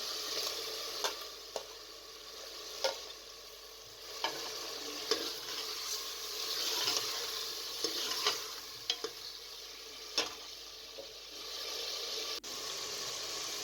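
Mutton, browned with spices and now joined by tomatoes, sizzles in a pot for shaljam gosht, a steady close hiss broken by periodic sharper scrapes of a spoon against the pan, with no voices.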